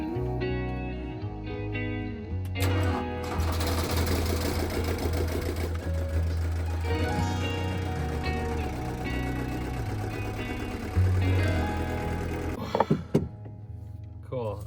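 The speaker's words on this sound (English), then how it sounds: "So first things first, flash up the motor." A boat's inboard motor is started and runs steadily, a loud, even mechanical chatter with a low rumbling drone underneath, lasting throughout, with a few sharper knocks near the end.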